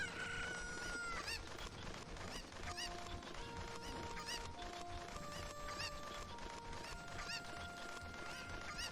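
Cucco chickens in the video game Zelda Ocarina of Time cluck and crow in repeated bursts. They sound alongside steady game music throughout, with no voice over them.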